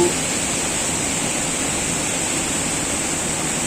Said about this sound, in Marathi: पाण्याचा फ्लो खूप जास्त आहे